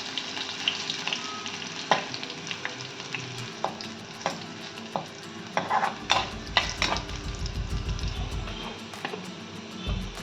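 Garlic fries in oil in a pan for a Konkani vegetarian thali. A continuous close sizzle runs under repeated clacking scrapes of a spatula, and a low rumble joins in midway.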